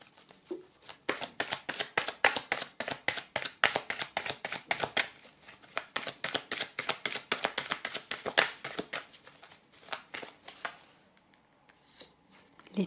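Tarot cards drawn from a deck and laid out on a surface: a long run of crisp, rapid card snaps and slaps, close and fairly loud, thinning into a few softer touches near the end.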